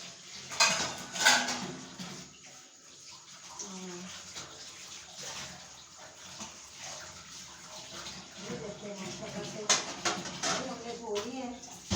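New plates, pots and utensils are washed at a kitchen sink with black oil and Lemon Max cleaner, giving steady splashing water and clinking dishware while someone speaks over it throughout.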